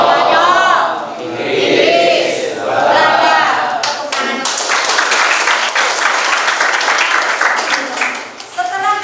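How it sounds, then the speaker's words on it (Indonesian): A classroom of pupils bursts into clapping during an Indonesian history lesson, dense and fairly loud, with a few young voices calling out before the clapping swells and carries on steadily. "Tepuk tangan."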